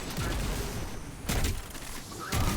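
Grenade blasts in the shooter game Destiny, a Nightfall strike on The Inverted Spire, two loud booming bursts with rumbling tails, about a second apart, over constant in-game background noise.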